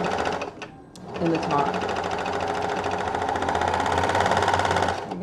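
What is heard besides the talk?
straight stitch sewing machine sewing cotton jersey knit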